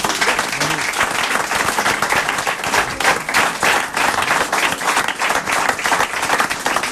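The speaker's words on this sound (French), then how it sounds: "des applaudissements pour remercier Ariane ou pour saluer l'entrée de Valérie Damido dans ce plateau" A TV studio audience applauds steadily for several seconds, a dense, even wash of many hands clapping close by.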